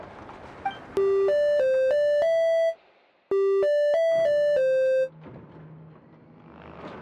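A machine in Genshin Impact plays two clean sequences of electronic musical tones, each a short melody of about five or six notes, separated by a brief pause over faint background ambience.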